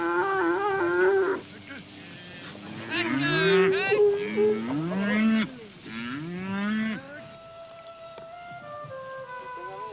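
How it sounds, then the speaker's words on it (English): Calves moo repeatedly and loudly at a ranch during branding, with drawn-out bawling calls overlapping in a close, crowded chorus before the sound fades into a thin background tone. "The season's new calves must be branded."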